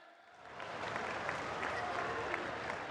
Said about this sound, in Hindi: सभी से आग्रह, जोरदार ताली बजाएं